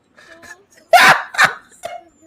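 A person imitates a dog with a few loud, sharp, yappy barks, close up, between snatches of talking.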